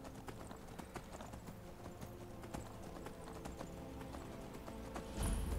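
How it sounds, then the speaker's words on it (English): Horse hooves clip-clop at a steady riding rhythm in the Skyrim Dawnguard game, rapid regular hoofbeats up close with a brief whinny, ending in a louder thump. "A little bit of a horse ride."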